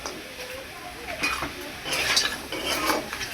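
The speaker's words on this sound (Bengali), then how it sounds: "সুন্দর করে নাড়াচাড়া করে দিলাম" Spoon scrapes and clinks in a pan as green chillies are stirred into a crab curry, soft sizzling beneath the uneven scraping strokes.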